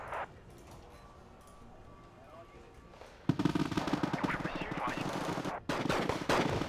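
Gunfire in the video game Wargame: Red Dragon. Quieter battle noise gives way to sudden loud, sustained machine-gun bursts and overlapping shots that continue to the end, with a brief gap near the close.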